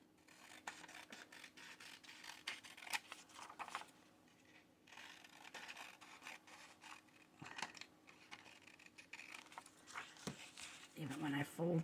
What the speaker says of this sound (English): I'll just trim it now